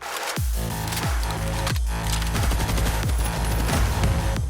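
Rapid gunfire rings out in a zombie survival video game, a string of heavy booming shots about half a second to a second apart. Each shot is loud and close with a ringing tail, and no voices are heard.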